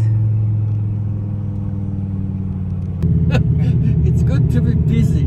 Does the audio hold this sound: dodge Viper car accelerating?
yes